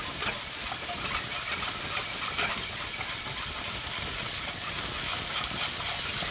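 Vegetables for chimichangas sauté in a hot pan on a stovetop burner, giving a steady, even sizzle with faint crackles, fairly quiet and without talk.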